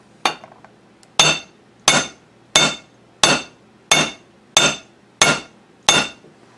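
A trailer hitch ball used as a hand hammer strikes metal eight times at an even, unhurried pace, each a bright ringing clank close by that decays quickly before the next blow.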